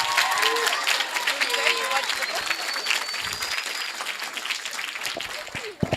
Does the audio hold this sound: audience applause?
yes